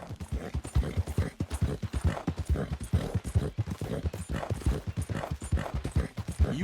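Horse hooves clip-clop steadily and close up in Red Dead Redemption II, a rapid and even rhythm of hoofbeats that keeps going throughout.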